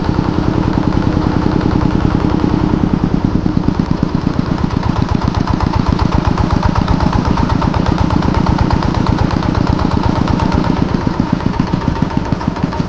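A loud compost grinding machine engine runs steadily throughout, its rapid rhythmic chugging and grinding continuing unbroken, with no talking.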